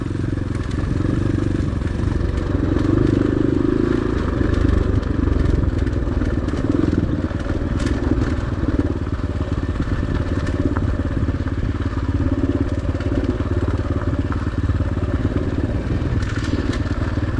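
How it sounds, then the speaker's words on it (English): Steady X-Pro Storm 250 motorcycle engine drone at moderate revs, engine braking in second gear on a trail, a constant low rumble with faint clatter and wind noise, no talking. "Keeping it in second gear, doing a little bit of engine braking."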